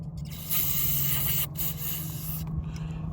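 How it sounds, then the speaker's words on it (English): A continuous hissing spray from an aerosol can beside a broken-down bus at the roadside, close by, with a few brief breaks between bursts. "I'm spraying it all over my leg"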